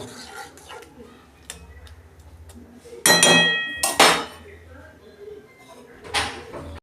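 A metal lid set onto a cooking pot of ghugni with chandramukhi potatoes, giving two sharp, bright clanks close together and a softer knock afterwards, with quiet kitchen noise between them.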